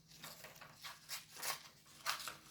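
Paper pieces being cut with scissors, a series of short crisp snips in an irregular rhythm, close and quiet with no talking.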